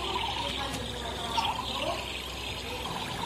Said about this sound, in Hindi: पानी कैसे बॉयल होता है वैसी आवाज़ आ रही थी ना